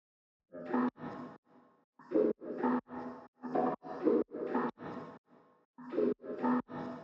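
A processed, pitched-down vocal sample in a tech house track comes in choppy, gated bursts, deep and breathy, stuttering in a rhythmic pattern with short gaps between phrases.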